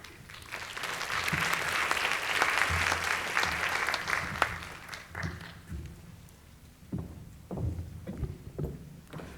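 A conference audience applauds to welcome a speaker about gait and fall-risk research, with dense clapping swelling over the first few seconds and then thinning into scattered, fading claps.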